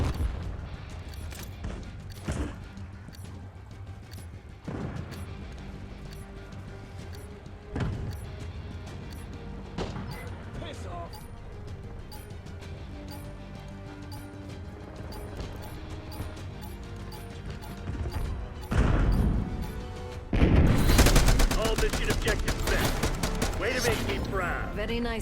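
Sniper rifle fire in Call of Duty: Black Ops 6, a handful of sharp separate shots spaced a few seconds apart amid game noise, building to a denser louder burst of gunfire near the end.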